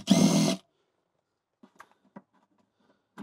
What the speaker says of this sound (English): So then we take a 10 millimeter socket. Take out both these bolts.